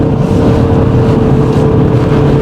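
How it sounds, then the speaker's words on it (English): A 2024 Mini Cooper S petrol engine drones loudly and steadily through gear changes and downshifts around a hairpin, with a continuous close engine note and road noise and no voices. "Oh, nice gear changes, downshifts, yeah."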